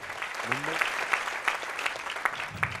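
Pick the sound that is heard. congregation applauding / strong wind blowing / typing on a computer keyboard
congregation applauding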